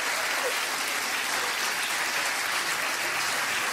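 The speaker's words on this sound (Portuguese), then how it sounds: "Acho que podem bater palmas." Audience applause at a live comedy show, a dense, steady wash of clapping that holds at even loudness from start to finish with no voices.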